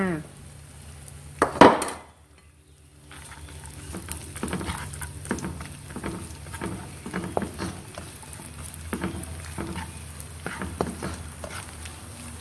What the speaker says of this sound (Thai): ใส่เนื้อที่เราหั่นลงไปค่ะ